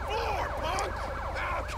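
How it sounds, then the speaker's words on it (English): Police car sirens wail in the video game GTA 5, several overlapping up-and-down sweeps sounding loud and steady throughout, with a faint voice underneath. "Y'all can shut the sirens up"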